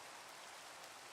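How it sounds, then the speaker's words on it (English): Rain falls steadily in a block-building video game, a soft, even patter at a fairly low level with no voices over it. "And it rains."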